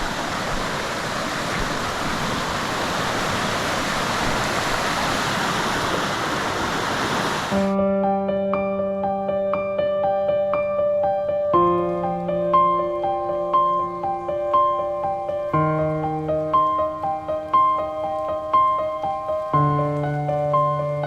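Loud rushing river water fills the first several seconds as a steady broadband roar, then gives way abruptly to sustained musical tones.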